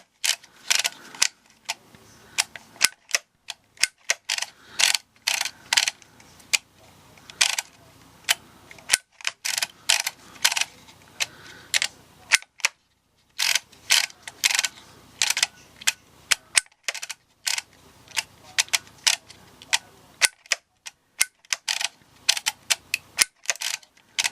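Sharp mechanical clicks and clacks come in irregular bursts with short pauses between, close and crisp, from a handheld Dymo embossing label maker being pressed letter by letter.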